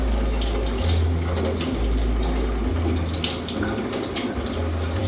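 Field blewit mushroom caps are rinsed under a running kitchen tap, a steady close rush of water splashing in a sink with a shifting low gurgle as the caps move through the stream.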